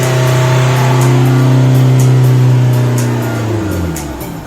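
Diesel car engine revved to about 2500 rpm, a loud, close, steady hum that holds at high revs, then sinks back down toward idle near the end.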